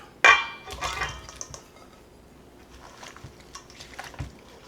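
Shrimp with fresh garlic, squeezed lemon juice and olive oil are stirred in a bowl, opening with a sharp clink and followed by soft wet squelches and light scraping, close and quiet.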